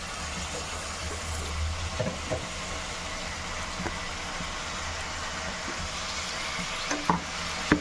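Tomato and pepper kurma is stirred in a pan over high heat, giving a faint, steady sizzle broken by occasional scrapes and knocks of the spoon against the pan.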